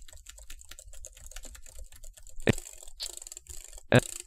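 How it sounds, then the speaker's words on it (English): Rapid, uneven keyboard typing, quiet and close, with a couple of louder key clacks near the end and no talking. "if I'm typing really fast, let's say that I'm just typing whatever on the keyboard"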